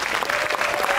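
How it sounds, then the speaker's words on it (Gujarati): Loud, dense audience applause at a Gujarati dance stage event, steady broadband clapping from a crowd filling the whole moment without a break. "એના માટે જોરદાર તાળીઓ થઈ જાય"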